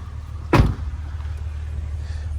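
The trunk of a 1999 Acura 3.0CL pops open with a single sharp clunk, followed by a quiet hum.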